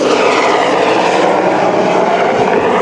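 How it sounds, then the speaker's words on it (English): A loud, close helicopter roars overhead during a safari drive at Djuma Game Reserve, a dense continuous engine and rotor drone that fills the whole moment. "sorry about that helicopter going overhead."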